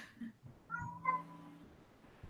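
A house cat meows once, close and clear, a drawn-out tonal call that rises then holds, with a short soft chirp just before and a bump of room noise after it.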